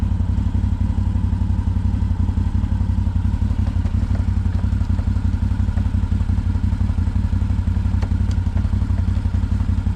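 A CFMOTO 800 XC four-wheeler engine drives steadily and loudly up close, with a constant low rumble, rapid rhythmic pulsing and light clattering throughout, no voices.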